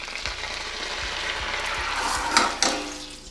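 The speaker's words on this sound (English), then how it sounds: "trying to mix and dissolve the sugar" Sugar stirred in a pan to dissolve it for a from-scratch apple tart, a soft scraping, sizzling swirl with a few sharper clinks of the utensil against the pan near the end.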